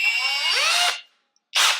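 A power drill with a 4.5mm bit boring pilot holes into a polyurethane snorkel panel on a Land Rover Discovery TD5: a loud, close, rising whine that cuts off, a short silence, then a second burst begins.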